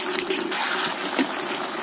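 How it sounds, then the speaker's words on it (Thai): Water pours steadily into a pot of cooking chicken for a Thai chicken and chopped papaya curry, a continuous close trickling gush with no talk over it. "แล้วเราก็จะเติมน้ำลงไปนะครับ"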